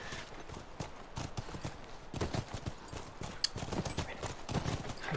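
Horse hooves clip-clop in a quick, irregular rhythm in The Last of Us video game, fairly faint and close, with a brief whinny and little talk.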